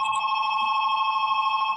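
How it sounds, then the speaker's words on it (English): A telephone rings with a steady continuous electronic bell tone, loud and close, with no talk over it. "Phone."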